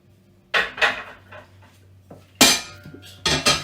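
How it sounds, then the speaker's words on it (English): A heavy-based metal saucepan clanks against the stovetop and utensils in a kitchen, several sharp knocks and scrapes in two clusters separated by quieter handling. "I want to put that 120 mils into a fairly heavy base saucepan"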